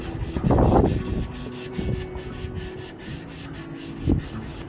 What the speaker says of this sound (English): agitate the exhaust with a provided scouring pad.